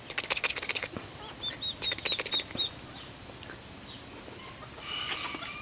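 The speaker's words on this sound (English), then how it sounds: "Come here. Come on, baby duckies." Very young ducklings scurry and flap their wings, a burst of fluttering wing noise with high, thin peeping calls, followed by quieter rustling and a brief rise of flapping near the end.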